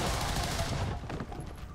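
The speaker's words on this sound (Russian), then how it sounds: "Первый выстрел." Gunfire in the video game XCOM 2, a dense burst of shots crackling loudly over a short stretch before tapering into softer rattling, with no talk.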